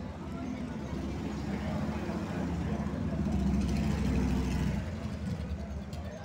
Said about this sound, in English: So you've got a red Mustang rolling out now.